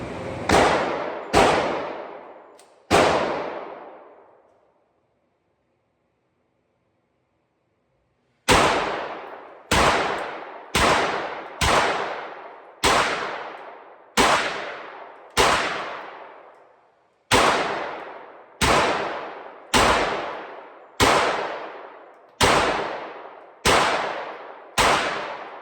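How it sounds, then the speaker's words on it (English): Springfield rifle shots at a shooting range, loud close sharp cracks with ringing decays, three quick shots, a pause of several seconds, then a long steady series of evenly spaced shots. "we're going to shoot again to see where it"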